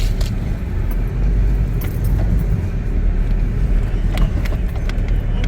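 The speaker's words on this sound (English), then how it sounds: "Big steel cables that we're driving over the top of." A car rolls over big steel cables lying across a rugged old mining track, a steady rumble broken by sharp metallic clanks and rattles at irregular moments, close and fairly loud.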